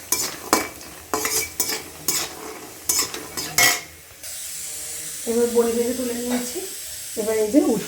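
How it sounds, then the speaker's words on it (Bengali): Drumstick stems and potatoes frying in a pan, opening with a run of sharp, loud spatula scrapes and clanks over a sizzle, then a steadier hiss of frying as a voice talks over it. "এখন আর এখানে আমি ডাঁটাটা ভাজতে বসিয়ে দিয়েছি"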